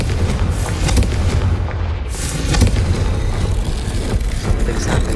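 Confringo blasting curse detonating in the Hogwarts Legacy video game: a loud, continuous booming roar with heavy low rumble, sustained throughout without a clear single impact.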